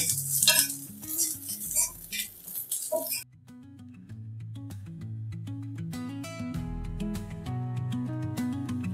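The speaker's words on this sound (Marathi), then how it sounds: "आता मी इथून लसूण आणि आले घालून घ्या आणि ते बी मात्र भाजून घ्यायचे" Garlic and ginger roasting in a pan for a Goan shark fish sukka, a loud hissing sizzle at first that drops away, then repeated spoon scrapes and clinks against the pan, close up, with no talk.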